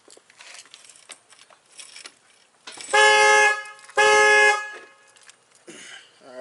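A factory Dodge car alarm, set off by its tilt sensor, honks the car horn in two loud, sustained blasts about a second apart, with a third starting at the end; keys jangle softly beforehand.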